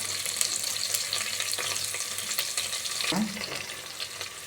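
One big chopped onion frying in a pan for brinjal curry, with a constant close sizzle and a brief clatter of utensil contact near the end.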